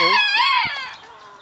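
Chickens on a farm, including bantams, give a loud, close squawking call that rises and then trails off, with a fainter clucking tail.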